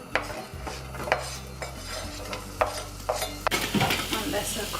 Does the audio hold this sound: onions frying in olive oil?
yes